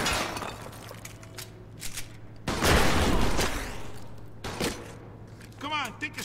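Gunfire in the Mafia II video game: a loud sustained burst of shots with sharp cracks and rumble, with scattered single bangs around it and people talking over the action.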